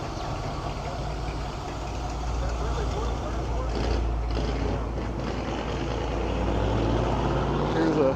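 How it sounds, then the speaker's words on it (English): A gasser hot rod pulling away at the Cleveland Main Street Cruisers car show in Tennessee, a steady rumbling engine note building slightly over several seconds amid outdoor crowd noise and nearby talk. "Here's that gasser pulling off that I saw earlier."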